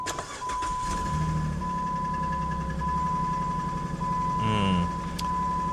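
A used car's engine turning over and catching, then settling into a steady idle hum, with a constant high electronic tone running alongside and a brief rising whine near the end.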